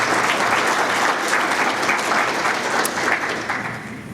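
A keynote audience at a microplastics conference gives a round of applause for the planning team: dense, steady clapping from a large crowd that holds level and then tapers off near the end.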